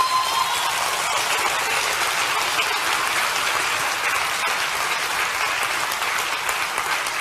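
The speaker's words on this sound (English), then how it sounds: "Shouldn't you give God a good clap" A church congregation claps steadily and loudly for several seconds, a dense, unbroken wash of applause with no voices standing out.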